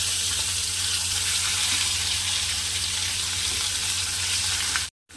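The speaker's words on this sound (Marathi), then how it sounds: "आता मसाला ॲड करू आपण" Masala for a chicken curry fries in hot oil, giving a loud, steady, close crackling sizzle with faint stirring, cutting off abruptly at the end.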